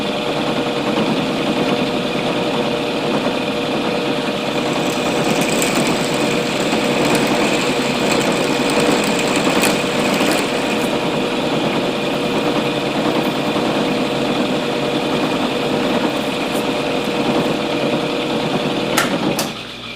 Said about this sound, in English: That soft steel drills like butter